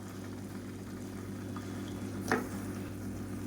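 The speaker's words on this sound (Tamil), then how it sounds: "சேர்த்துட்டு இதை எண்ணெயில் கொஞ்சம் வதக்கி விட்டுக்கலாம்" Brinjal, drumstick and potato pieces sautéing in oil in a pan, a low steady frying bed with one brief scrape of stirring midway, no talking.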